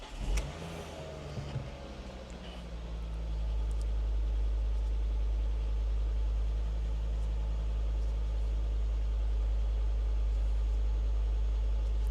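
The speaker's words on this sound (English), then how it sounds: "the car still has a misfire" A hot hatch engine cranks and catches, then settles into a loud, steady idle with a slight misfire, heard close and alone for the rest of the clip.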